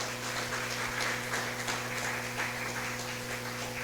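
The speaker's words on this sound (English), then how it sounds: "with a round of applause." Audience applause welcoming a harpist at a 2022 Christmas recital, a dense, steady clapping that stays at an even level for several seconds and goes by without voices.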